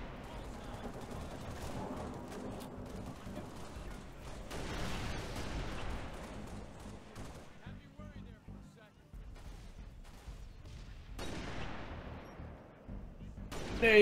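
Grenade blasts and gunfire crackle through a Halo Reach multiplayer fight, fairly faint and continuous bursts with a louder rise near the end, mixed under a player's voice.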